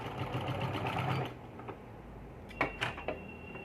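A sewing machine stitches a baby yoke frock at the neckline, running steadily for a little over a second before stopping, followed by a few faint clicks and taps.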